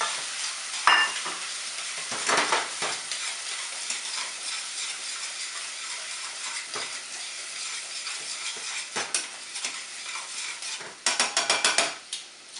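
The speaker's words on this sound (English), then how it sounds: "you're going to want to incorporate those and cook them for about 5 minutes." Celery, carrots and onion cook in a pan with a continuous bright sizzle, with periodic scraping stirs and a burst of rapid clattering near the end.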